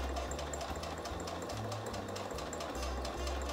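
A sewing machine stitches a kitchen towel, its steady close whirr of rapid needle strokes running continuously through the short stretch, with the motor pitch wavering slightly as the pedal is worked.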